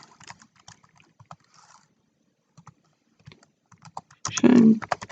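Scattered keystrokes tapped on a computer keyboard, light and irregular with pauses, ending in a louder burst of clatter.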